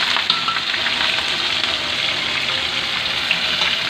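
Cumin seeds and whole black peppercorns sizzle steadily in hot oil while tempering for a masoor dal, a dense, continuous bright crackle that stays loud and even throughout with no voices.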